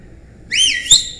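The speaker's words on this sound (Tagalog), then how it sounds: "Pag narinig nyo ba yung pito na yon, nung maliliit kayo, ano ginagawa ninyo?" A whistle is blown once, a bright shrill pitched tone with a rising-and-falling warble that rings out clearly over quiet background, ending with a short sharp burst.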